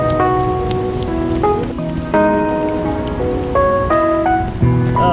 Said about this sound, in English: Big old fat rain.